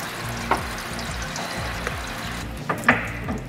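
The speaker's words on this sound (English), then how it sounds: "there's heaps of water coming out" Water gushes and splashes steadily out of a Datsun 280ZX radiator onto a surface nearby, with a low mechanical hum underneath and a few drips and knocks.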